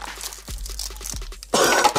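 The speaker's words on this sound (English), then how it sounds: "apologies for the coughing" Coughing close to the microphone during a Pokémon card pack opening: two short, dry coughs followed by a louder, rougher, sustained burst.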